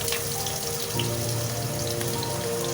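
Small chopped potatoes fry in hot oil as a steady, close, crackling sizzle, continuous and even throughout with no talk.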